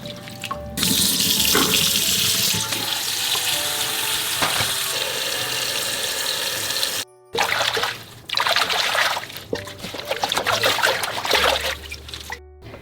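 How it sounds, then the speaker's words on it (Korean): Running tap water splashes into a kitchen sink as garlic chives are rinsed under it, a close continuous hiss broken by brief pauses when the flow stops. "요리를 하기 쉽게 항상 씻을 때 이렇게 가지런하게 정리를 하면서 씻으면 참 좋아요."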